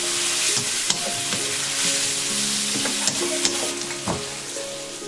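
Cabbage and egg stir-fry in a hot pan with a steady, close sizzle, punctuated by sharp clicks and scrapes of a spatula tossing the food; no voices.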